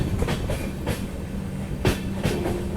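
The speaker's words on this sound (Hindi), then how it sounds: "अपनी ट्रेन बढ़ रही है बरक वैली की तरफ।" Guwahati–Agartala passenger express running on rails toward the Barak Valley, heard from on board. A steady rumbling roll carries periodic clickety-clack wheel beats over rail joints.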